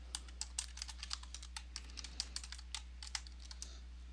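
Quick, light keystrokes on a computer keyboard as a password is typed at a library login, an irregular run of faint clicks over a low steady hum.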